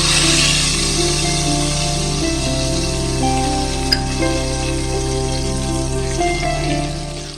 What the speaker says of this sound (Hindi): अब जनाब मैं इसमें भंगार लगाने लगी हूँ।